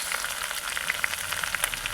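Turmeric, cumin paste, ginger, garlic and green chilli with five-spice tempering sizzling in hot oil, a steady close frying hiss with small pops and crackles throughout.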